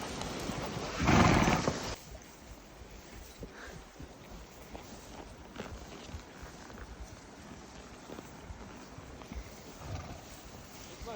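Pack mules in a packtrain in California's Golden Trout Wilderness plod along a trail, with soft irregular hoof clops and rustling, one loud whinny-like burst near the start, and faint scattered voices.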